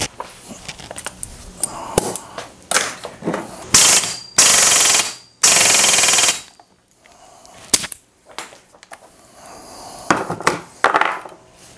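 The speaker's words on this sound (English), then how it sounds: "I use a 3/8 impact so that it doesn't overdrive it." A 3/8-inch impact wrench fastens the reverse-threaded clutch on a Stihl 029 chainsaw, firing two loud, close rattling bursts of a second or two each, among sharp clicks and metallic handling clatter.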